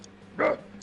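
A dog gives one short, muffled bark at moderate distance, a single brief yelp standing out from a quiet indoor room.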